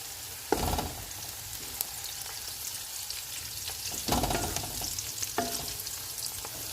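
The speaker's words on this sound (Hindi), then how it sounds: "प्याज को हम इतना ही फ्राई करेंगे कि बस ये नरम हो जाए।" Onions sizzle steadily in hot oil in a pan, with a few louder scraping stirs breaking through the continuous frying hiss.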